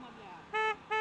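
A Hero Splendor motorcycle horn gives two short, bright, tonal beeps at close range, following a moment of voice.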